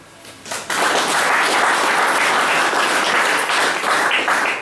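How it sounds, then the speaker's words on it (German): Applause at a football press conference for KFC Uerdingen versus Rot Weiss Essen, starting abruptly after a brief quiet moment and continuing as steady, moderately loud clapping from the room. "Ausgleichende Gerechtigkeit, auch hier Applaus."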